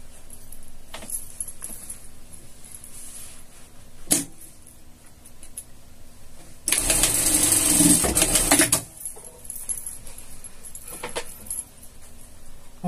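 A sewing machine stitching the shoulder seam of a scout costume, one short burst of about two seconds, close and loud, between quieter clicks and handling sounds.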